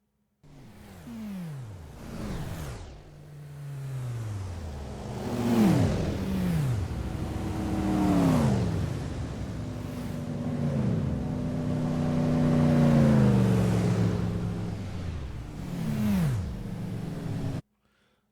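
Simulated passes of a car built with Unreal Engine 5 MetaSound Doppler effects: repeated engine tones sweep down in pitch as each one rushes by, several passes in a row, loud and close, with no talking.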